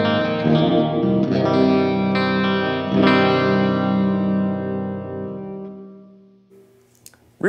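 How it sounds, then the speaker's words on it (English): An electric guitar through a Bugera amp's pristine clean channel with the reverb turned fully up, ringing out as a loud strummed chord whose long washy tail fades out over several seconds, with no talking. "Let's turn the reverb on here. I'm just gonna crank that thing up."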